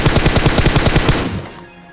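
Automatic gunfire in the mobile shooter BGMI sounds as a loud, close burst of about seven rapid shots at an even rhythm, then quickly fades out, with no talking.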